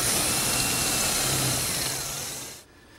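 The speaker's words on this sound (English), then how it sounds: "I'll drill a hole about 3/4 of an inch deep." A power drill boring a hole into wood runs steadily at high speed, loud and close, then winds down and stops near the end.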